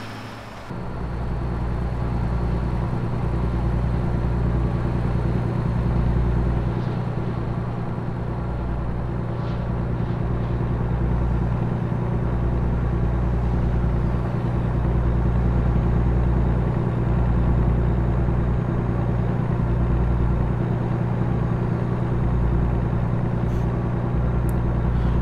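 Steady, droning engine of a Kenworth T610 dump truck cruising down the road in American Truck Simulator, a constant low rumble that holds its pitch throughout with no talking.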